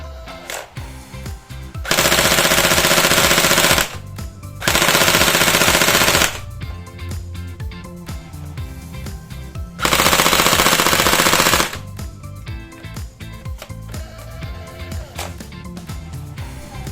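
TG G36C gel blaster running on an 11.1 battery fires on fully automatic in three loud, sustained bursts of rapid buzzing shots, each about two seconds long, separated by quieter mechanical handling noise.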